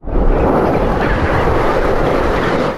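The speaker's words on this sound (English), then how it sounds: "I think it's fairly safe to say these are hurricane force gusts" Hurricane-force wind gusts roar steadily at sea near Antarctica, a loud, unbroken rush of wind buffeting the microphone with no voices.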